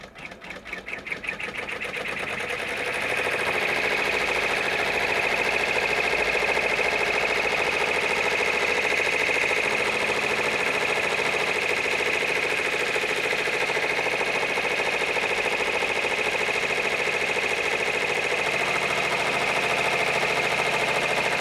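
A single-needle embroidery machine sews steadily at speed, a fast, even buzzing rattle that spins up over the first few seconds and then holds constant and loud up close for the rest of the stretch, with no talking.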